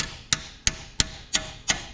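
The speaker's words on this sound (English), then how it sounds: "we'll take a bigger punch and our hammer" A hammer strikes a punch to free a stuck valve in the engine of an AMC Rambler wagon, giving five evenly spaced sharp metallic taps about a third of a second apart, close and crisp.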